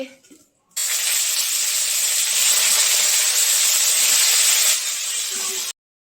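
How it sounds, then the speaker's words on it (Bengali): Cauliflower hitting hot oil sets off a sudden, loud, bright hiss of frying that holds steady for about five seconds, then cuts off abruptly. "চলো এখন ফুলকপিটা ভেজে নিই তেল গরম হয়ে গেছে"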